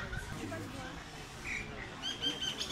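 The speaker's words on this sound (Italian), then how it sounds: "Senti gli uccelli qua sopra." Birds chirp faintly overhead in Phuket, Thailand, in short scattered tweets, with soft background noise and a little speech in the mix.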